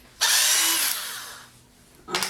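A power drill drives screws into a soap slab mold, one long loud whirring run that slowly winds down, then a short second burst at the end, close and without talk.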